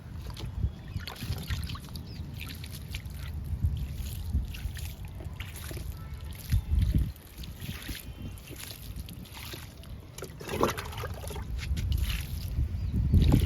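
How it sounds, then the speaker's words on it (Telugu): Water splashes and trickles into tubs of tomato plants in uneven bursts, with light sloshing and handling noises close by. "ఇంకా వాటర్ ఇస్తున్నాను"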